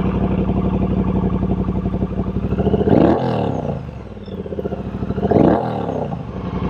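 A Triumph Bobber motorcycle with tall bars pulls away on a ride, its engine rumbling steadily close by. Twice the throttle is revved up into a rising roar before it settles back, with no talking.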